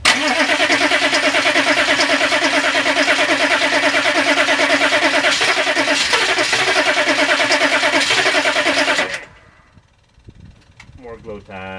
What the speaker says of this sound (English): More glow time. Crank her up. Nope.